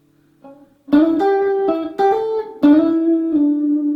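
A clean electric guitar plays a short lick, notes gliding between pitches with slides and quick hammered notes, sustained and close.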